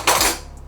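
A metal serving spoon knocked once against a dish, a single close clink that rings out briefly and fades.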